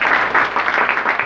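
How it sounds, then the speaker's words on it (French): An audience applauds at a school event ceremony, a close, dense burst of steady clapping throughout. "le ministre Maniga, que je vous demande d'applaudir s'il vous plaît."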